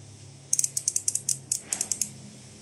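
Spring-and-pawl clicks of an Asahi Japanese ratchet handle, a quick run of about fourteen sharp, bright metallic ticks in uneven rhythm, close and alone over a faint low hum.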